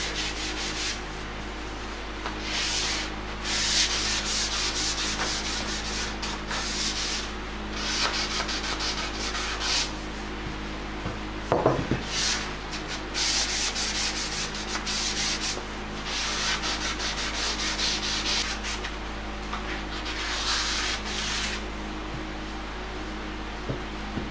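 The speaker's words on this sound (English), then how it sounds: "Gotta be careful when you sand the sealer, you don't get too aggressive" Sealer coat on a custom birch vanity gets sanded by hand in a shop. Close, repeated rasping strokes come in rhythmic bursts, each lasting a second or two, with short pauses between.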